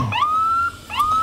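A newly decorated Sault Ste. Marie ambulance sounds its siren in a Santa parade, two rising wails each sliding up to a steady tone, loud and close.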